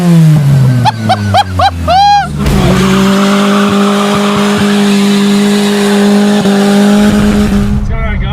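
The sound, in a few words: 1999 Toyota Tercel engine revving with cold air intake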